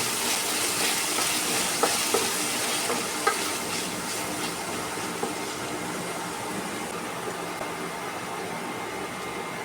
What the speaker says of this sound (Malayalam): ഇതിൻ്റെ ഈ പച്ചമണം മാറുന്നിടം വരെ നന്നായിട്ടൊന്ന് ഇത് മൂപ്പിച്ചെടുക്കാണ്.